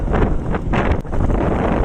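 Strong wind roars across the microphone of a slow-moving motorbike, a continuous heavy rumble with gusty surges and brief dips, loud and close.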